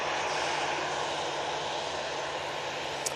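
A Ryanair airliner at Manchester Airport gives off a steady, broad engine roar that holds at an even loudness with no voices.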